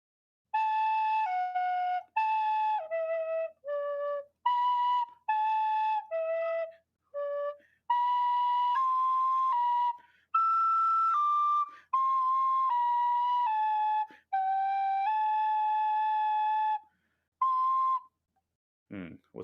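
A tin whistle plays a melody from Kingdom Hearts, a series of clear, bright sustained notes and short phrases with brief breaths between them, close and alone, ending in a short low vocal sound.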